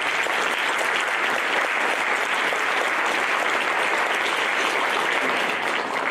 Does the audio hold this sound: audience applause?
yes